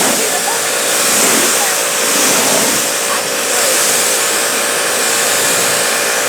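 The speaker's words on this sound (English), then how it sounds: "what I'm going to do is take my power washer, right?" A power washer rinses a car with a loud, steady, broadband hiss of spraying water that swells and dips slightly as the stream moves.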